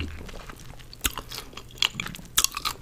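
Sour gum chewed very close up, wet squelching and sticky mouth sounds with a few crisp crunchy bites, a steady intimate rhythm with no speech.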